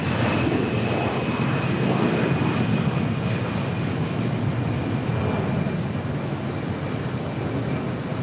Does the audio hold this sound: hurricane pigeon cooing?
no